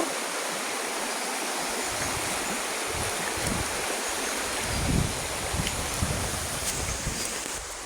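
A stream rushes along in a continuous loud, close wash of flowing water, with a few splashy surges partway through and no talking.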